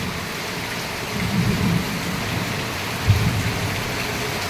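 Steady, heavy rainfall with a dense hiss and a few low rumbles, no voices, falling long enough to flood a side street.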